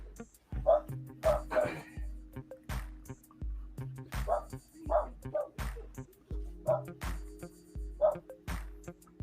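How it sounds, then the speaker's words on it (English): A dog barks and yips in repeated short bursts, roughly a dozen over several seconds, fairly close, with a steady low hum running underneath. "Dog barking."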